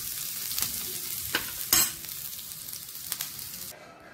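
Onion and coconut roast in hot oil with a soft, close sizzle broken by several sharp spatula scrapes and taps, then cut off abruptly near the end; no voices.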